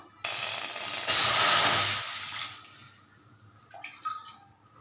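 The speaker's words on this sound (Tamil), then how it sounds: "ஒன்றரை பங்கு தண்ணி ஊற்றியாச்சு" Water pours in a steady hissing stream into a pan for about two seconds, measured for rice flour dough, then stops, followed by a few light clinks and drips.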